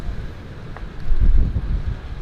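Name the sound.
wind blowing outdoors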